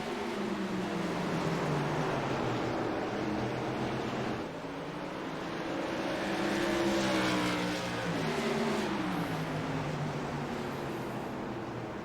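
Whelen Modified race cars roar around the New Smyrna track on the final lap, their engines droning loudly and rising and falling in pitch as the pack sweeps past, with no gaps in the noise.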